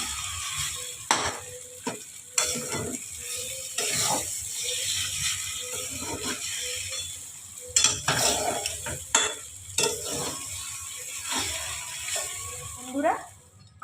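Egg chow mein stir-fried in a home kitchen pan, with a steady sizzle broken by repeated sharp clinks and scrapes of a utensil against the pan, close and fairly loud.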